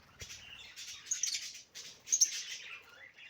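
Pet birds kept inside a greenhouse chirp in a few short, bright bursts at close range, with quiet pauses between and no talk.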